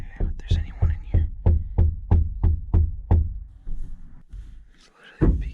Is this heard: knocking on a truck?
yes